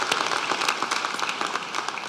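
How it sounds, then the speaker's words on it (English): Audience applause at a UMBC graduate school commencement ceremony honoring family members and friends, a dense, steady wash of many hands clapping throughout, no talking. "I think we owe it to the family members and friends to give them a round of applause as well"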